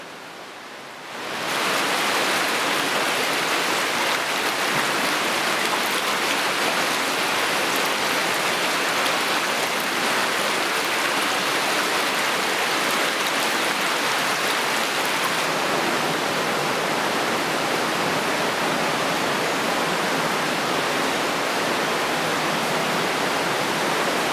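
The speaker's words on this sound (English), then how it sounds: "cut deep in the marble, water flows through the cave" Water flows through a marble cave, a steady, dense rushing wash like a stream or small waterfall that starts abruptly and continues unbroken and fairly loud, with no voices.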